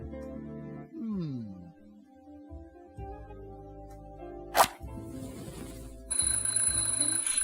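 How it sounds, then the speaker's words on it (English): A smoke detector alarm in the adventure game The Journey Down kicks in after a sharp click, a steady high-pitched electronic beep-tone sounding loud and continuous over low game music. "I'm, just testing the smoke detector"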